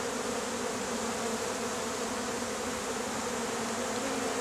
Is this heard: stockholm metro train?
no